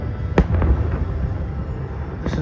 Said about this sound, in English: This is the Christmas party fireworks.